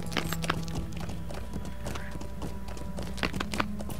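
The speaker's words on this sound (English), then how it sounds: "I love the sound of the ice cracking under the horse's hooves." A horse's hooves clop across cracking ice in Lord of the Rings Online, a quick run of close, crisp thuds and crunches with a low hum beneath and no speech.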